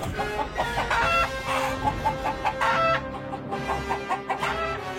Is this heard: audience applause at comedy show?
no